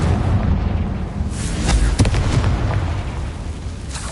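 A Confringo spell explodes in a Hogwarts video game: a loud, rumbling blast with a sharp burst near the middle, surrounded by continuous roaring debris and noise and no talk.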